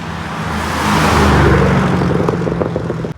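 A blue BMW M2 fitted with an M Performance exhaust drives past, its engine swelling loudly into a throaty roar and then fading with a few crackles as it moves away.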